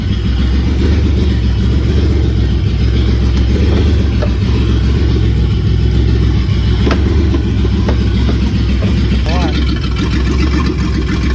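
A Pontiac Fiero engine running loud and close, with a rough uneven drone that rises and falls as it surges, with someone talking over it.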